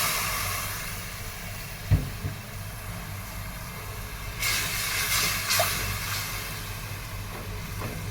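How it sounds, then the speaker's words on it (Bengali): Water hits spiced chicken frying in a pan, and a strong hiss of steam and sizzle surges up halfway through, following a low thump, then settles into steady frying. "এখন আমি পানি দিয়ে দিলাম।"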